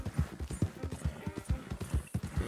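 Hooves of a sturdy, fancy horse clip-clop in a steady, even rhythm in Red Dead Redemption 2, each hoof strike close and distinct, with faint ambient sound under them and no talk.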